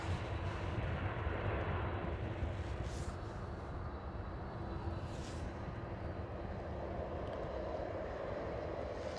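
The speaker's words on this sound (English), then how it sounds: "Here goes the KLM City Hopper" A KLM City Hopper Embraer E175 passes near Amsterdam Schiphol, heard as a moderately loud, steady broadband engine rumble with a low drone throughout and no voices.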